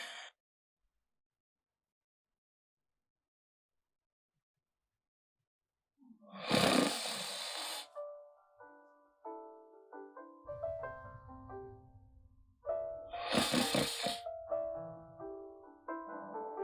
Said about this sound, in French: Tu ronfles, tu me déranges